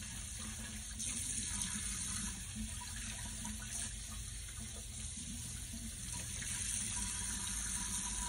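Tap water runs steadily into a sink while a face mask is rinsed off, a soft, even gush with no breaks throughout and no voices.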